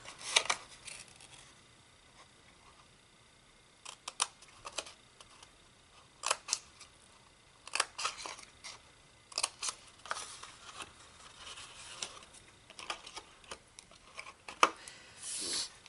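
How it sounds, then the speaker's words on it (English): Scissors cut along the score lines of a paper box, making quiet, intermittent snips and clicks separated by short pauses, with no talking. "We're going to cut up each of these score lines and take a small wedge out of the tabs."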